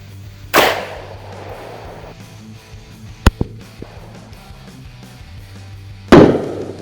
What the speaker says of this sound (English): First shot, 357 Magnum with 150 grain jacketed hollow points.